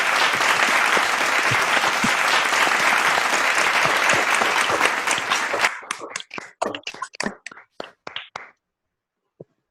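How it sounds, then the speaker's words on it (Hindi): Loud, dense applause from an audience at an online Jain scripture-study program in Mumbai, honoring a Pandit, sustained for several seconds and then thinning into scattered individual claps before fading out. "जोरदार ताली बजाकर।"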